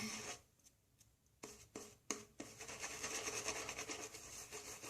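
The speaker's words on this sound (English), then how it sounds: "you'll hear that this sounds light and sudsy, very bubbly" Soft, wet bubbly swishing with a few sharp strokes early on, then continuous brisk frothy whipping of lather, close up and fairly quiet.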